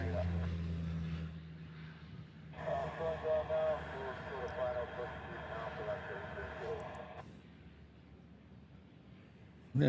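A plane moves near a runway in Hawaii, heard as a steady, fairly distant engine drone that swells for several seconds and then fades, with a voice talking over the top.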